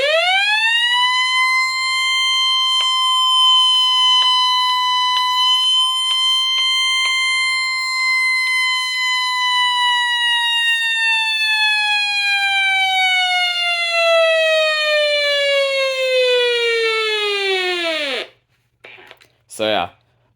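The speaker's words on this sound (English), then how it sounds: "So let's have a siren test on it." A weather radio runs its siren test: a loud, steady electronic wail rich in harmonics holds for about eighteen seconds, then its pitch sags and dies away, followed by a few short clicks.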